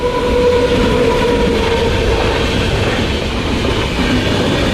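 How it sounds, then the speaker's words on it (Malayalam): A non-stop train rumbles steadily past at Pookunnam railway station, Thrissur, loud and continuous, with a low rolling roar and faint wheel clatter throughout. "അടുത്തൊരു ട്രെയിൻ വരുന്നു."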